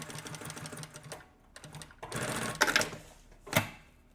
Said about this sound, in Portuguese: Faço uma costurinha lateral.